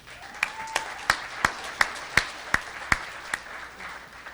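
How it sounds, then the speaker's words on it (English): Sparse individual claps from a small audience at a pitch event, about a dozen sharp, evenly spaced hand claps under a faint murmur rather than full applause. "Let's give them another big round of applause."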